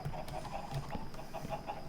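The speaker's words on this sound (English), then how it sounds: "That is an awful lot of chickens." A flock of many Minecraft chickens clucks in overlapping, repeated bursts over a constant game background hum, with no voices.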